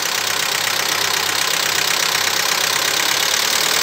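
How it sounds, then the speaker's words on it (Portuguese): A car engine idles steadily during radiator coolant bleeding, a continuous even hum with a hissy, broadband wash on top, close by and without speech. "E assim quando o motor retoma para lenta normal"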